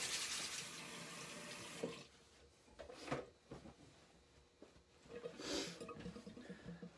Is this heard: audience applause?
no